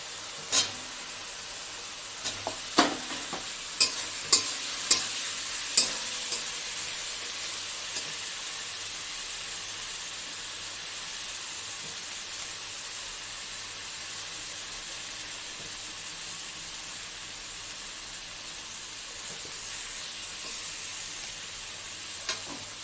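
Masala paste of cumin, red chili, turmeric and salt mixed in water fries for a vetki fish curry with potato. A soft, even sizzle runs throughout, and a few spoon clinks come early on.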